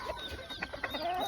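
A game fowl hen clucks on a farm, a short run of soft, close clucks and chirps over steady background noise.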